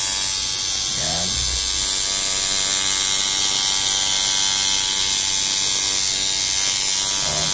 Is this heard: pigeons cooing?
no